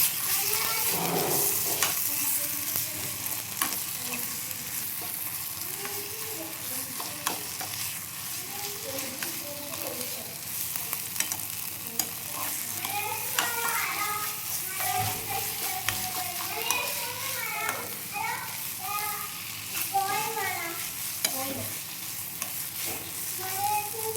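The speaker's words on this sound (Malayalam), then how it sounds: "നന്നായിട്ട് മിക്സ് ചെയ്ത് കൊടുക്കാം." Eggplant curry mixture with turmeric powder is stirred in a hot pan, giving steady sizzling and repeated scraping strokes of a spoon for about twenty-four seconds, with no one talking.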